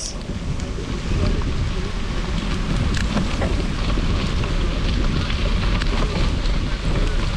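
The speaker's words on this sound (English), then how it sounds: "it is hailing on us currently" Hail pelts down outdoors amid wind during a gravel race, a dense, steady hiss of pattering impacts and gusty rumble that swells after the first second and holds loud and constant.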